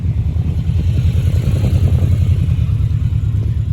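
A BMW F850 GS adventure motorcycle idles or runs nearby with a loud, steady low engine rumble and pulsing throb, continuous and close, with no talking.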